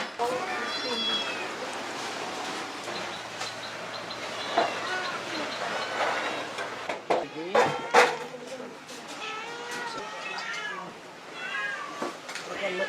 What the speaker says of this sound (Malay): Setiap pagi, makanan basah akan dihidangkan kepada kucing-kucing yang menjadi penghuni di sini.